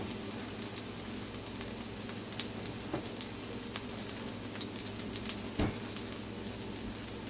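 Onions frying in a pot: a steady, close sizzle that carries on throughout, with occasional light pops and clicks over the hiss.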